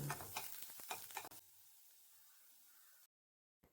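Chopped shallots sizzle and get stirred in a hot pan for a finger millet soup, with close scraping stirs over frying for about a second before a softer steady sizzle and then silence.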